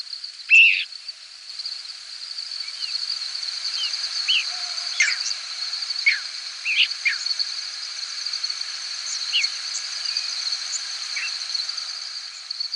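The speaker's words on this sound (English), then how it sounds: "squeaks, whistles, and peeps from thousands of birds passing over a hayfield in central New York State" Many faint high squeaks, whistles and peeps from thousands of nocturnal migrating birds passing overhead above a hayfield in central New York State, scattered and irregular over a steady high-pitched drone of crickets.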